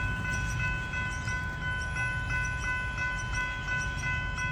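A train approaches the Hurstbridge Road level crossing in Diamond Creek, Victoria, a steady rumble building beneath the continuous ringing of the crossing bells, with no voices.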